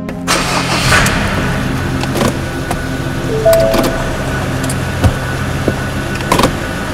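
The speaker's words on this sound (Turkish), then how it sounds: "Araba gidiyor mu acaba Enes?" A car engine cranks and starts in a video game, with a steady mid-range engine rumble running throughout, a few sharp clicks and knocks, and a brief tonal beep partway through; no one speaks.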